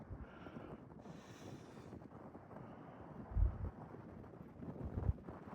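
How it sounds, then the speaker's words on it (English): Wind gusts outdoors in the wilderness among clumps of trees, a faint, steady whooshing rush with soft low buffeting that swells in two brief gusts. There is no talking. "But listen to the wind."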